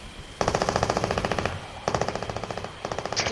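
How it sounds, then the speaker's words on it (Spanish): Two long bursts of rapid automatic gunfire in the video game Fortnite, loud and close, with a short third burst at the end and no voices. "Se están recagando a tiros ahí."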